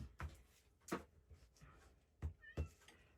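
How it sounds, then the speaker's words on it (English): A cat stuck inside a closet meows several times, with four distinct calls spaced across a few seconds, fairly faint and muffled as if behind a door, with no one talking. "I think I have a cat that's stuck in this closet, so I'm trying to let him out"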